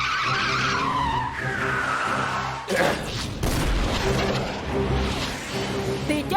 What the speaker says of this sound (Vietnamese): Quả tiễn nhỏ, bắn!